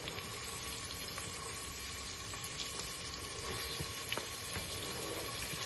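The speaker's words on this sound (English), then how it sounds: "I'll be adding the diced onions, and you have to let the onions cook at least till they are light brown in color" Diced onions fry in a large pot, a soft, steady sizzle with faint crackles and occasional stirring clicks, quiet and close with no talking.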